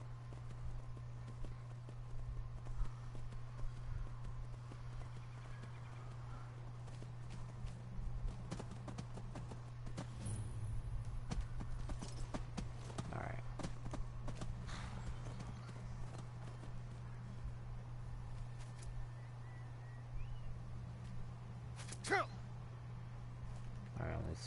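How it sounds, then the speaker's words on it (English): Hoofbeats of a horse galloping in Skyrim Special Edition make quiet, rapid clip-clops over a constant low game hum, with someone talking intermittently over them. "with the curse off, my steed is as fast as he should be."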